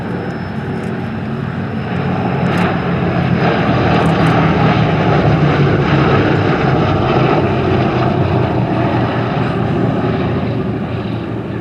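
A B-17 Memphis Belle bomber roars past at the Sywell Airshow 2024 with its bomb bay doors open, its multiple piston propeller engines producing a loud, continuous droning rumble that swells slightly as it passes.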